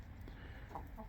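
Chickens cluck softly and continuously in the background, a low, faint farmyard murmur with no speech over it.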